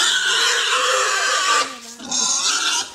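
Pig squealing in two long, shrill, loud bursts close by, separated by a brief gap, with a human voice faintly mixed in.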